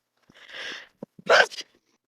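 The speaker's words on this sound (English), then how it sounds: "I just sneezed." A single close sneeze with a short breathy intake before it, then a brief sharp burst, in an otherwise quiet room.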